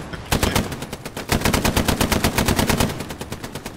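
Sustained bursts of rapid machine gun fire in the World War II shooter game Hell Let Loose, loud and close, firing in a fast steady rhythm with brief pauses between bursts.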